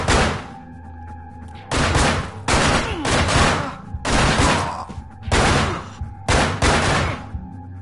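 Gunfire in the video game Manhunt: a series of loud, close, sharp shots in irregular clusters, each burst cutting off abruptly against a low droning background, with no speech over them.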